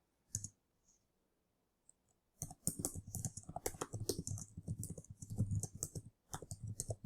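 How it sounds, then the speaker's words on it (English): Quiet, rapid clicking of computer keyboard keys in a steady run of typing after a few isolated taps, close by with no talk. "So you just type whatever it is that you need to type for your business."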